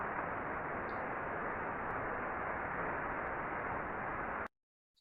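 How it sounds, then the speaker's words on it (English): Healthy flexible coupling on rotating machinery heard through an ultrasound detector: a smooth, even broadband hiss with no knocks or irregularities, steady for several seconds before cutting out. "So this is what a good coupling sounds like."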